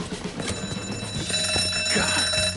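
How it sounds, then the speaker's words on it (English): In the Mafia 3 video game, a security alarm rings loudly and continuously during a heist, with a shrill sustained electronic tone over background game sounds. "You triggered the fucking alarm?"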